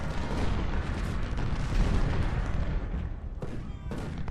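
Continuous booming artillery fire in the Civil War strategy game Ultimate General: Civil War during the Malvern Hill battle, with dense overlapping rumbling blasts and sharper reports near the end.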